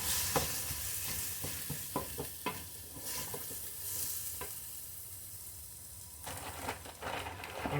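Vegetables for a potato broccoli soup sauté in a pan with a continuous close sizzle, punctuated by repeated spatula scrapes and stirring knocks. No one speaks.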